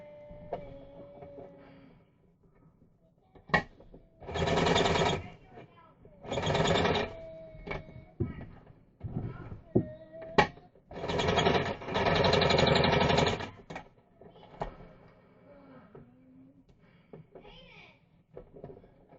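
A sewing machine double-stitching a fabric tote bag seam runs in several loud whirring bursts of a few seconds each, separated by clicks, handling noises and quiet talk.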